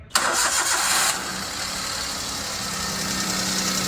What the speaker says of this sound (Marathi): हो भैया गाडी चालू करा बरं का, मला जरा इंजिनचा आवाज ऐकायचा आहे.